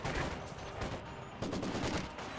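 Maxim machine gun firing in the WWII strategy game Company of Heroes, a dense, quiet, continuous rattle of rapid shots mixed with distant battle noise and no voices.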